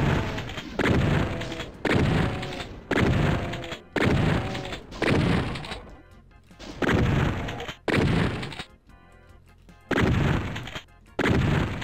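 Heavy repeated gunshots from the video game Doom 2 come in a regular rhythm of loud thudding blasts about a second apart, with a few short pauses between volleys.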